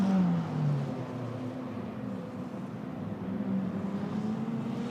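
Formula Renault Eurocup race car at Spa-Francorchamps in 2019 accelerating up through the gears, its engine note climbing then dropping at each shift, heard at a steady middle distance over a broad track roar.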